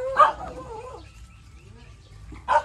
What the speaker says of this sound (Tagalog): Ang dami naming aso dito.